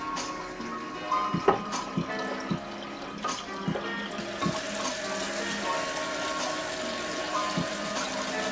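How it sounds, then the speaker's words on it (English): Filtered water runs steadily into a container as the base of a peach lime-ade is started, a continuous splashing pour with a few clinks and knocks near the start, heard close and alone. "we're gonna pour in our filtered water"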